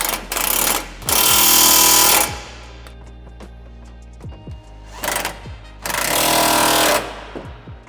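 A power impact tool hammers suspension bolts tight on a Ford F-150 Tremor during a leveling kit install. It comes in loud rattling bursts of one to two seconds, with quieter ratcheting clicks in the gaps.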